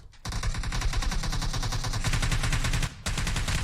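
Rapid automatic gunfire in the mobile battle royale game PUBG Mobile, a loud sustained burst of shots that cuts out briefly near the end and resumes, with no talk over it.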